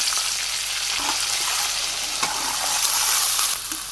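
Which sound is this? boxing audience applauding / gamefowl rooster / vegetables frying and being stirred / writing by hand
vegetables frying and being stirred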